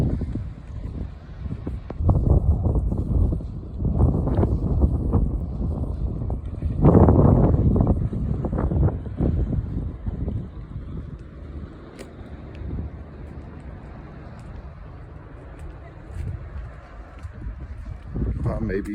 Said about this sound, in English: I can't talk out there because it's so windy, so you can't hear what I'm saying